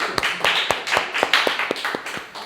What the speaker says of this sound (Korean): 우리 성섭이 박수 한번 주죠.